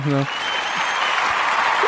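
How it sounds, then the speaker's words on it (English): Studio audience applause on a comedy talk podcast: a steady, dense wash of clapping that starts abruptly after a brief tonal blip and holds at an even, fairly loud level to the end. "we'll give him a clap too"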